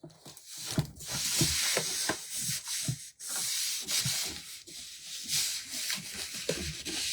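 Steady rubbing of a craft piece by hand, a continuous close scratchy, papery friction sound with rhythmic back-and-forth strokes and brief pauses, fairly quiet and without speech.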